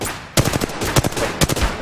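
Rapid bursts of gunfire from an online team shooter match, several sharp shots in quick clusters ringing out over a steady background of game ambience, close and loud.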